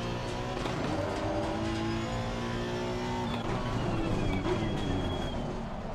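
A race car in the racing game Assetto Corsa Competizione accelerates hard along a straight, its engine note climbing steadily through the gears at moderate volume, with no talk over it.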